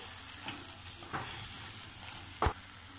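Mixed vegetables for Nagercoil-style aviyal cook in a pan, giving a soft, steady sizzle with a few scraping stirs. One louder knock comes near the end.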